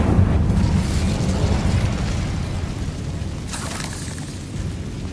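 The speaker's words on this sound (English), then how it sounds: "Incendio!" A roaring fiery burst from the Incendio spell in Hogwarts Legacy, a loud low rumbling whoosh at the start that slowly fades, with a brief crackle later.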